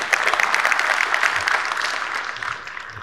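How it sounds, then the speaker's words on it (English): Lively applause from an audience, many hands clapping steadily and fairly close, gradually thinning out toward the end. "Big round of applause."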